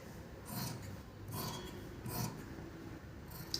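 Scissors cut fabric for a sleeve in a tailoring setting, making three or four soft rasping snips spaced about a second apart, close by and without speech.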